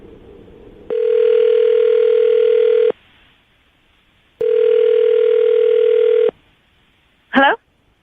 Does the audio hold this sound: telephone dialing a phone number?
yes